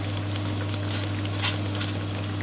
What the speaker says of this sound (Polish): Pięknie się usmażył ser.